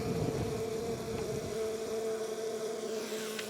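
Honey bees fly around a spring hive, their steady buzzing hum close by and continuous, with a faint droning tone running beneath.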